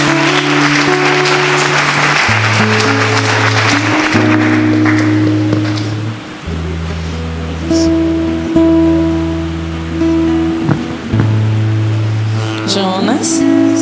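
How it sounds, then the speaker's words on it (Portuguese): Guests at a wedding ceremony clap for the groom, a crowd's applause that starts loud and fades within a few seconds as sustained music takes over, with a swell of clapping returning near the end. "Salva de palmas para Jonas"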